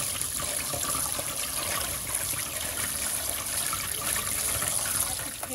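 Running tap water pours in a steady, close hiss while vegetables are rinsed under it, with no break throughout.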